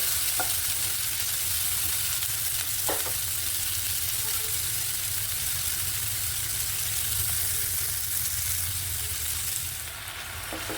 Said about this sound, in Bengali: সবগুলোকে একসাথে ভালো করে নাড়তে হবে